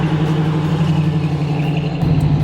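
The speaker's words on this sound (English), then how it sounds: "Listen to that engine rumble." A 1968 Ford Mustang California Special's V8 engine rumbles at a steady low idle, loud and close, with a slight shift in tone toward the end and no talking.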